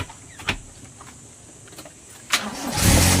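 A Toyota Corolla with a doubted battery and starter: brief clicks and a short cranking burst, then the engine catches and roars up loudly, close by.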